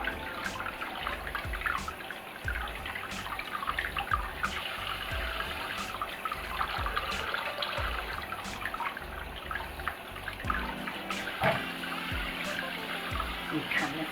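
Tap water running steadily into a sink while pork neckbones are washed, a constant close rushing stream with faint splashes throughout.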